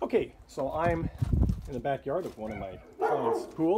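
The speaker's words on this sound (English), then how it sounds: "pardon the dogs, they got loud dogs" Dogs bark in a backyard by a client's pool while someone talks over them; the barks are loud and close, mixing with the speech in quick bursts.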